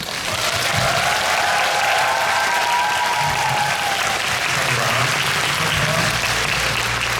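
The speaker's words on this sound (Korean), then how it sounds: "이분들께 박수 한번 부탁드립니다." Loud, steady applause from an audience at a K-pop fan meeting, sustained clapping filling the hall throughout with faint cheering mixed in.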